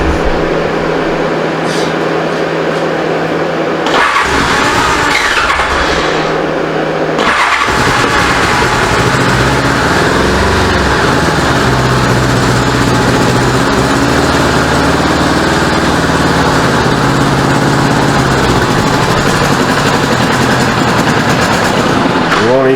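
A 1985 Honda Goldwing GL1200 motorcycle with freshly rebuilt carburetors that won't idle, its engine cranking, catching and running steadily while the throttle is held. The loud, continuous rumble carries revving swells, and a voice talks briefly over it.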